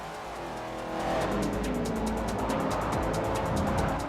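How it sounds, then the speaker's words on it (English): A loud, throaty muscle car engine in a racing video game roars steadily and builds in pitch as it accelerates, with some tire noise mixed in. "I missed the sound of this car."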